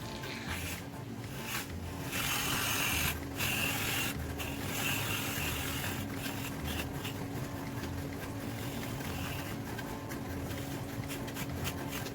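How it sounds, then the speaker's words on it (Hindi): An aerosol can of whipped cream sprays onto a trifle in a series of short, hissy spurts over steady background noise, with no talking. "अब मैं इस पे क्रीम स्प्रे के साथ फ्लैग बनाने लगी हूँ।"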